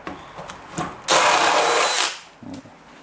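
A cordless hammer drill, a DeWalt DCD805 or Makita DHP487, boring into wood, with a loud one-second whirring burst that cuts off abruptly, surrounded by faint handling knocks.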